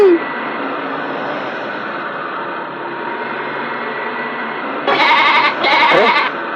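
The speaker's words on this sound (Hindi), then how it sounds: "बकरी के चिल्लाने की आवाज आ रही है" Two short goat bleats sound near the end over a steady hissing background noise.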